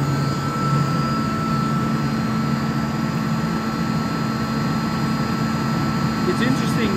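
Atlas Copco GA 11 FF screw compressor running with its covers open, giving a steady, loud, continuous mechanical hum and whir with a constant tonal drone throughout, close by and unbroken.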